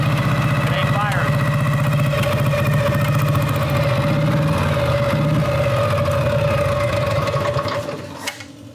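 A motorcycle engine idles roughly with its front cylinder not firing, giving an uneven, loping mechanical chatter up close that fades near the end, with someone talking over it.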